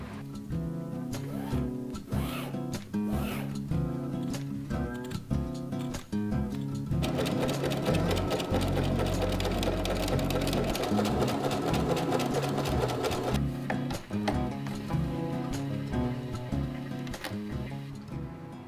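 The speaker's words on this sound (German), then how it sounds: "Zum Glück hat meine Frau eine Nähmaschine." A household sewing machine stitches a piece of fabric, its rapid motor whir steady and close for the whole stretch, swelling louder and denser partway through before settling back into quick rhythmic runs.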